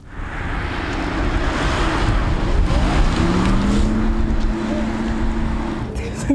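A Porsche Taycan Turbo electric car pulling away, a rising whine and road rumble building as it accelerates, heard from inside the cabin with people talking over it.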